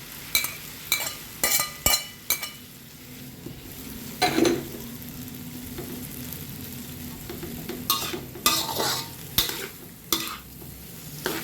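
Pork stir-fried with ginger in a Thai pad cha dish, with a steady sizzle under repeated sharp scrapes and clinks of a spatula against the pan, coming in quick clusters with quieter stretches between.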